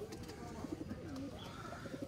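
Soft pigeon coos, a few short low notes in two small clusters, heard faintly through a steady wash of background noise with no talking.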